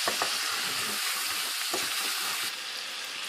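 Chicken pieces with salt, chili and turmeric fry in a hot pan for butter chicken, producing a loud, steady sizzle with occasional stirring scrapes close by, no talk over it.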